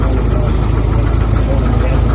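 An antique Case tractor idles at a tractor pull with a loud, close, steady low throb and a regular pulsing rhythm, while someone talks over it.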